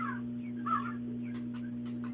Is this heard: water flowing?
no